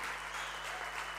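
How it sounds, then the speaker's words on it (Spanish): An audience applauds the pizzas, a dense, steady wash of clapping with a low electrical hum beneath it. "Un aplauso para las pizzas de la generación fuerte"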